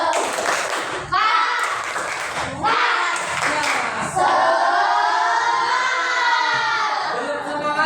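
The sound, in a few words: group rhythmic spirit clapping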